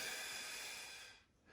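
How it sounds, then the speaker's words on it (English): A steady, breathy exhale during a Pilates floor exercise, close and fairly soft, tapering off into near silence before a faint rise at the end. "breathing out"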